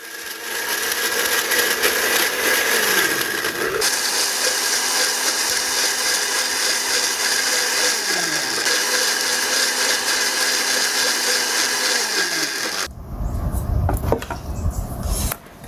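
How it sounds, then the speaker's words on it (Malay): An electric blender whirs loudly as it grinds curry spice paste ingredients for a yellow coconut pineapple and salted fish curry, the motor running steadily with pitch dips and surges before stopping, followed by brief scraping. "Okey, kita kisar dulu bahan-bahan tadi."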